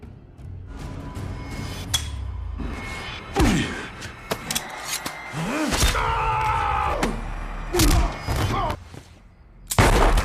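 Pistol shots ring out in a tense film struggle, a few sharp separate cracks mixed with thuds and slams, spread irregularly over the scene against low background noise.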